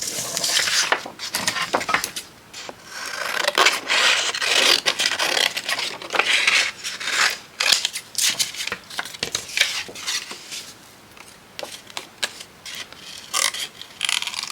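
Scissors snip through small paper shapes in quick, irregular bursts of crisp cuts and rustling, close and clear, with brief pauses between runs.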